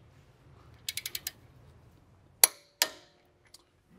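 A torque wrench tightens a front wheel bearing bolt to 200 newton meters on a 2015-2021 Volkswagen Mk7 Golf R. A quick run of five ratcheting clicks is followed by two sharp, loud metallic snaps, close up and without talk.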